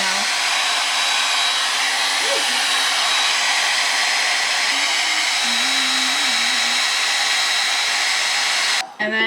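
A hair dryer blows continuously and loudly while blow-drying a deep wave closure wig, a steady whooshing roar with slight pitch wobbles, cutting off abruptly just before the end.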